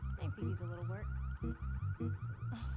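Car alarm in the video game Need for Speed Unbound, a loud repeating electronic wail pulsing in steady bursts with rising and falling tones, continuous throughout and close by.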